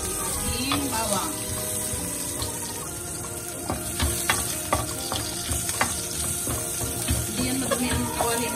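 Garlic, added along with its skins, frying in a pan beside a pork steak sauce, gives a steady, close sizzle with bursts of crackle and occasional scraping and clatter against the pan.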